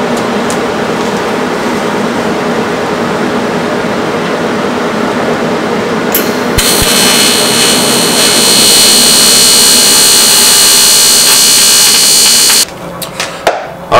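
Welding on a custom metal boat flotation pod: a loud, steady roar that shifts halfway through into a harsher, buzzing, crackling hiss, which holds for several seconds before cutting off abruptly.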